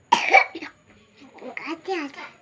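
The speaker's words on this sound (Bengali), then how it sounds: "কাশি হচ্ছে?" A young child with a cold coughs sharply a couple of times close by, followed by soft murmuring child vocal sounds.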